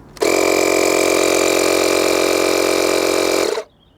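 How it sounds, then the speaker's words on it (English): A Makita 18V cordless inflator compressor runs loud and steady while inflating a football to 8 psi, a constant mechanical drone lasting about three and a half seconds before cutting off abruptly. "Place that into the end of the compressor like that, pull that down. And set that to 8 psi."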